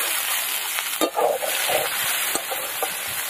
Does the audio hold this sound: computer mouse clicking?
no